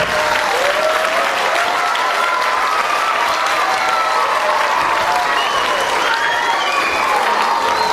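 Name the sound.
audience applause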